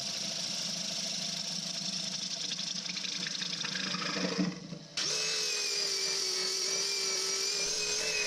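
A lathe whirs steadily while sandpaper rasps against a spinning punky maple bowl, then the sound shifts abruptly to a smoother, higher motor hum; no one speaks.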